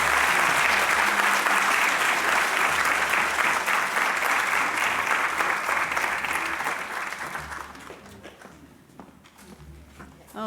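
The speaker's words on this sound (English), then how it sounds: "So let's give our panel a round of applause" A conference audience applauds a panel with a dense burst of clapping that fills the room, then thins out and fades over the last few seconds.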